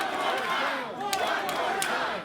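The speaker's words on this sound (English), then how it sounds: "this crowd is bloodthirsty. They want more." A wrestling video game crowd roars and yells continuously at moderate distance, with scattered shouts rising above the din.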